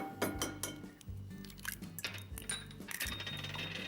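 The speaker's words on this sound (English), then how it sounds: "I'm going to crack in 2 eggs" Two eggs cracked into a bowl of cake batter already holding oil, giving brief sharp shell taps and wet drops among light clinks of bowl and utensils, close and fairly quiet.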